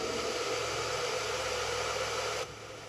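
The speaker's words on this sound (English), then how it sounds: "I'm going to blow dry because I don't want to smush it." Hair dryer blowing steadily on black gesso, a loud continuous airy roar that cuts off abruptly near the end, leaving a quieter background.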